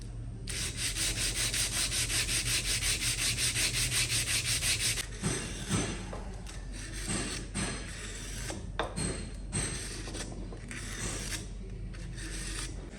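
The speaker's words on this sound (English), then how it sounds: "I'm actually going to sand the box, just that flange, a little bit thinner." Steady, rasping sanding of a plastic surfboard fin box flange runs continuously for several seconds, then turns into uneven scraping strokes with small knocks, close and fairly loud.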